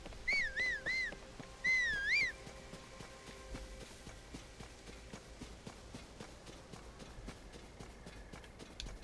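A horse gallops in Zelda Tears of the Kingdom, its rapid hoofbeats running quietly and steadily. A couple of bright whistled notes are heard near the start.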